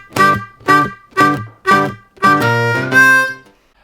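Blues harmonica lick played alone, opening with a 2-draw whole step bend quickly released to a clean 2-draw: four short, evenly spaced reedy notes followed by two longer sustained, bending tones, loud and close.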